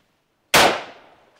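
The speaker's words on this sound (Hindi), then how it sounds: "सामने टारगेट, सिंगल शॉट फायर।" A single rifle shot fired in an Assam Rifles army training drill, one sharp loud crack out of silence that fades into a brief echoing tail.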